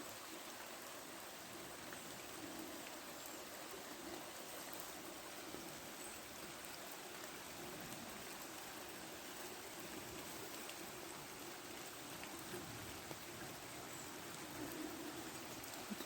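The Gouët river flows in a steady, even rush of water over rocks in the Chaos du Gouët in Côtes d'Armor, a constant close wash with no talk.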